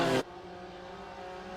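A pace car engine in a GT4/TCR sim racing game: a brief loud burst of engine noise cuts off sharply, leaving a steady humming engine drone underneath.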